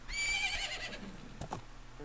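A horse in the video game Majora's Mask lets out one loud, high whinny that descends and fades, followed by a couple of soft clip-clop hoof sounds.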